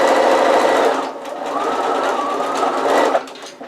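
A sewing machine stitches a fabric zip pouch with a fast, close, continuous mechanical whir, pausing briefly as it reverses into a back stitch, then running on before stopping.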